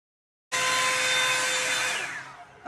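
An all-in-one blow dryer runs loud and steady on curly hair, starting abruptly and blowing continuously, with the airflow shifting slightly near the end.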